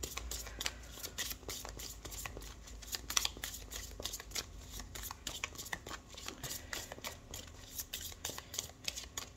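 Tarot cards shuffled by hand, quiet papery riffles and soft flicks in quick irregular bursts, faint and close, with no voices.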